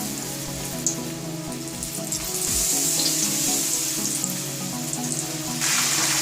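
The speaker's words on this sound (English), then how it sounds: "So I'll slowly drop the mushrooms and deep fry them." Mushrooms deep frying in hot oil in a pan over medium heat, a close, steady sizzle with crackling that grows louder as more pieces drop in, heard without talk.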